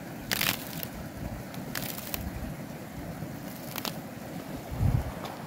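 Ice crunching outdoors on a cold morning in Dhorpatan, Nepal: several short, sharp crunches scattered over a low, windy background.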